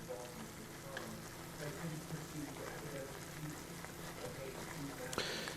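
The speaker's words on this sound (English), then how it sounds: "It will bubble and sizzle." A flour roux for white chicken chili sizzles and bubbles in a pot, giving a soft, steady crackling hiss at low level, with faint kitchen noise around it.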